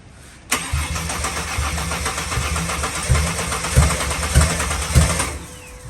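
Ford Barra engine making its first startup with no exhaust fitted, the starter cranking loudly and continuously for about five seconds with a rhythmic pulsing chug, close and harsh, ending abruptly without voices.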